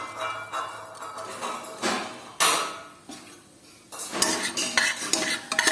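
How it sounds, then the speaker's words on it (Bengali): Cumin seeds frying in melted butter in a pressure cooker, with close metallic scraping and clinking of a spoon against the pot over a soft sizzle, in irregular bursts. "জিরেটা একটু হালকা ভাজা ভাজা করে নিলাম"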